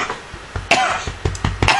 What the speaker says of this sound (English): Like the 4th time I've coughed in this review?